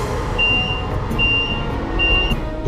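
A warning alarm on a half-mile-long Channel Tunnel shuttle train sounds as three evenly spaced high electronic beeps over a loud, steady rumble of the moving train.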